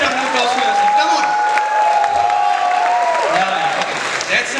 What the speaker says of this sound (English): you guys can make a huge round of applause for yourself